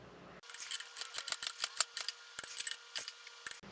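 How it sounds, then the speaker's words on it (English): A torque wrench clicks repeatedly as dowel bolts are tightened to 25 Newton meters during a Jeep 4.0 engine install on a 1982 CJ7, a close, sharp run of about a dozen clicks with no talking. "I can now go ahead and then click off the dowel bolts"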